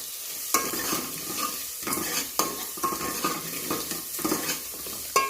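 Ground spices sauté in a pan for tomato rasam, with a spoon stirring in repeated scraping strokes over a bright, steady sizzle, close and loud.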